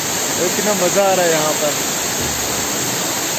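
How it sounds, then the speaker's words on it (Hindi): Waterfall roaring as a steady, loud broadband wash throughout, with someone speaking over it. "आप देख रहे हो यहाँ पर कितना अच्छा वाटरफॉल है"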